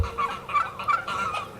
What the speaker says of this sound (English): There's my turkeys and my peacocks are in there